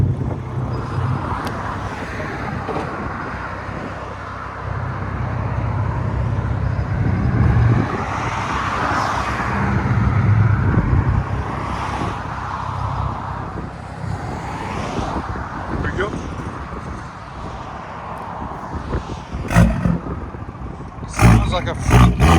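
A 2019 BMW 540i with a 3.0L turbo inline-six, downpipes and straight pipes rumbles and roars in the street, swelling through loud revs with crackles near the end, while people talk nearby.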